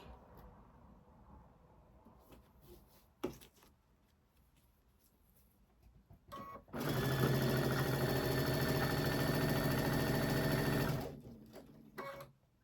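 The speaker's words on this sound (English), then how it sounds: "We'll show you how to chain stitch them." A sewing machine chain stitches tulip quilt block pieces, starting after some quiet handling clicks and rustles, then whirring steadily and loudly for about four seconds before stopping, followed by more light handling noises.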